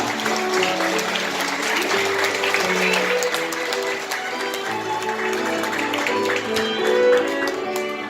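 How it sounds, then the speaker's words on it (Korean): Steady applause from wedding guests fills the whole stretch in a wedding hall, dense and sustained, with music playing softly underneath. "하객 여러분 큰 박수 부탁드리겠습니다"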